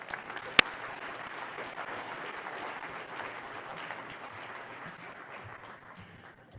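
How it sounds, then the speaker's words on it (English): An audience applauds as Jennifer Hansen is brought on stage at a business talk, a soft, distant patter of many hands that runs steadily and slowly fades toward the end, with one sharp click near the start. "Give her a round of applause."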